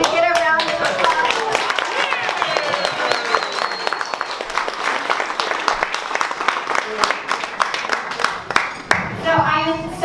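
A round of applause from an audience at a memorial gathering: sharp, dense hand claps that continue steadily for about ten seconds, with some voices murmuring in the room.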